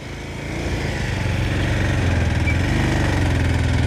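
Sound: motorbikes passing on a landslide-damaged road

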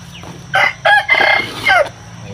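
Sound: rooster crowing

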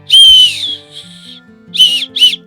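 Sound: whistle built into a backpack chest strap

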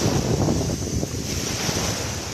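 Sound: sea waves on a beach in Cyprus

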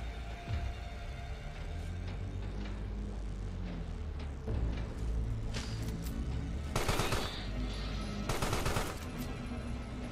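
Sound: gunfire in the video game Carrion

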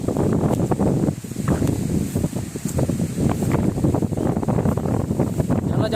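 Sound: strong wind blowing into the microphone

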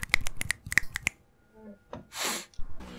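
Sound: finger snapping

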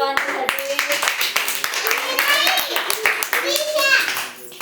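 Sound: children clapping for the winner

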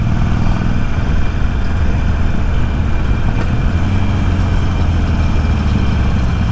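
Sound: Harley-Davidson Iron 883 motorcycle engine

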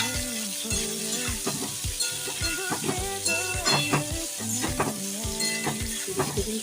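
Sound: tomato, ginger and capsicum frying while stirred

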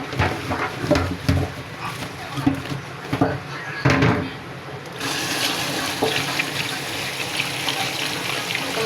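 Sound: water washing taro stems

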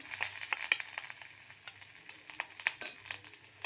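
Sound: garlic, chili and ginger frying in a pan

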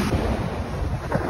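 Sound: ocean waves at Kite Beach, Dubai

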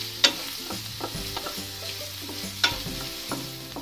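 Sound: chopped onion frying in oil in a kadai

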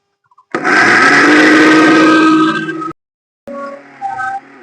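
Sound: mixer grinder grinding pitambari brass-cleaning powder

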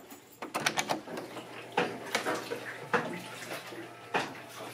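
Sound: washing machine running a load of laundry, knocking

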